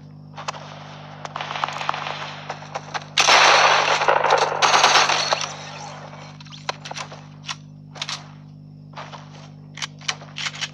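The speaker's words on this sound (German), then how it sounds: "Oh, oh, Schüsse." Bursts of rapid Fortnite video game gunfire crackle on and off, with a long sustained volley in the middle and scattered single shots after, over a steady low hum.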